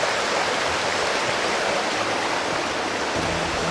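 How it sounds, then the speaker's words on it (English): A stream on a rocky nature trail at Tell Dan runs out from under rocks, making a loud, constant rush of water that holds steady with no pauses. "Water coming out from under here."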